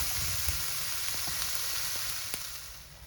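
Oil and flour frying in a pan for onion gravy, giving a steady close sizzle with a few faint stirring clicks, no talk.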